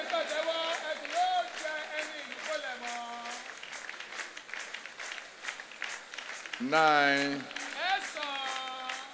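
Rhythmic crowd clapping at a church revival gathering carries on beneath a voice counting aloud and stretches of sung or shouted phrases, the applause steady and moderately loud throughout.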